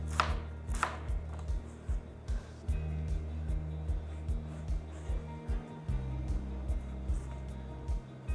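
Knife chopping vegetables for pico de gallo on a cutting board, a steady run of close, crisp thuds repeating roughly twice per second with a low hum underneath.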